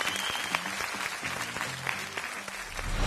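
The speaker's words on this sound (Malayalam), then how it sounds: "എല്ലാവരും കൂടി ചേർന്നിട്ട് ഗംഭീര കയ്യടി" A studio audience applauds a singing MP on a Malayalam television show: steady, dense applause throughout, fairly close and continuous, with faint music tones underneath.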